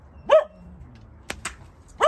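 A dog barks a few times at a moderate distance at a snowy allotment, sharp single yaps separated by pauses, with a faint whine trailing after the first bark.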